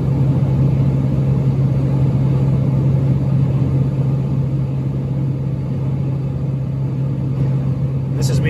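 Diesel truck fitted with a DT44 Stealth turbo and S&B intake with auxiliary scoop, driving with a steady loud low engine rumble and drone, continuous and close, with no talk.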